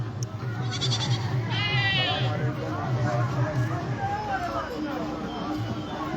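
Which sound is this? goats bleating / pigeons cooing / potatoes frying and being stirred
goats bleating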